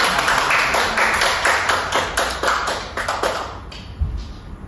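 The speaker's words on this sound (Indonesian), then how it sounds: "Ini tepuk tangan untuk Rabawan." Scattered clapping from a small classroom group during a micro-teaching lesson on derivatives of algebraic functions, a few quick hand claps in an uneven rhythm, close and moderately loud, fading out near the end.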